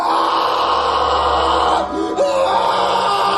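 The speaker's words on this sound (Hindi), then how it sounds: "तभी अचानक से किसी के चिल्लाने की आवाज आने लगती है" A cartoon character screams and yells loudly over dense, busy background sound, a sustained shrill cry lasting a few seconds with a brief wavering dip near the middle.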